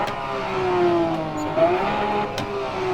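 A Porsche 911 GT3 engine sound played through an accelerator-pedal exhibit at the Porsche Museum in Germany, revving up and down in smooth, rising and falling sweeps, close and fairly loud.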